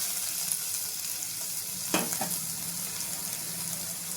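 Bitter gourd and garlic fry in a pan with an even, close sizzle, and a brief double scrape of a utensil comes near the middle.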